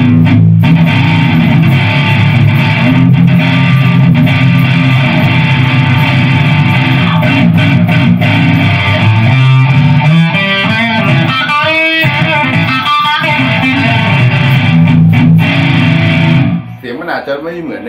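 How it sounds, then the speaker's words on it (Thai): Distorted rock electric guitar played through a Mesa amp VST plugin, dense sustained chords and riffs filling the clip loudly before cutting off near the end, with no talking. "อันนี้คือเสียงตัวของเมซ่าฮะ"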